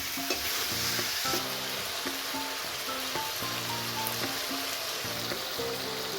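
Chicken curry cooks in a pan with a constant sizzling hiss, partly covered by a melodic music track playing throughout.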